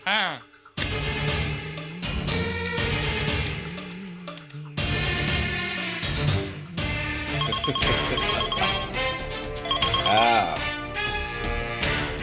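A telephone rings repeatedly in a drama scene, its electronic ring pattern recurring over background music, with voices talking at times between the rings.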